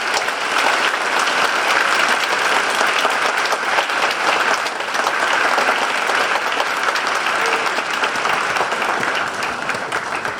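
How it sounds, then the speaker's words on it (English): Auditorium audience at a youth assistance awards ceremony applauding honorees, a dense, steady wall of clapping that fills the whole stretch at near-constant loudness with no talk over it. "Let's have a big round of applause for these honorees."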